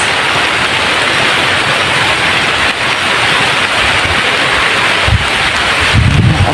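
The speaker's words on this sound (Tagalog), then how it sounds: "parang malakas yung ulan" Dense, steady rush of heavy rain during an outdoor harvest, loud and close, with gusty wind buffeting the microphone and a few low rumbles.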